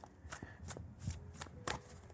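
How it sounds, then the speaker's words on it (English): An oracle card deck is shuffled by hand in a quiet room, giving five or six crisp riffling bursts at a steady rhythm, close and clear. "this deck that I'm shuffling"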